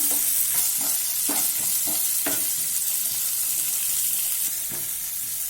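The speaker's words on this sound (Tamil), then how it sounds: "வெங்காயம் சேர்த்து ஒரு நிமிஷம் வதக்கணும்." Long-sliced onions sizzle and fry in a pan on a medium flame, a steady hiss of frying broken by several scraping stirs of a spatula, close and fairly loud.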